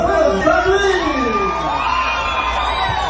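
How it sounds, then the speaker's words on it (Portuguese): A live-show crowd for the country duo DiPaulo e Paulino cheers and whoops loudly, a dense wash of shouting voices that keeps going without a break. "Então, um aplauso para o"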